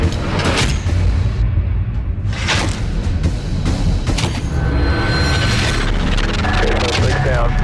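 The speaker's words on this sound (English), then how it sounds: "Suspect shooting at officer." A suspect fires gunshots at a police officer, picked up on the officer's body camera: several sharp, loud broadband bangs over a constant roar of noise, with talk and radio chatter running underneath.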